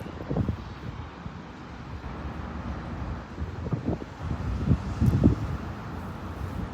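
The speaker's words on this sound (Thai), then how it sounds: "แต่ลมแรงค่ะ" Strong wind buffets a microphone outdoors in rumbling, uneven gusts, with faint traffic noise blending into the roar.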